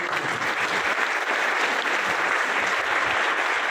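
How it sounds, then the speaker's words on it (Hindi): A crowd in a memorial hall in Delhi applauds vigorously, an even wash of clapping that holds at a steady level from start to finish. "मैं चाहता हूँ एक बार जोरदार तालियां हो जाए"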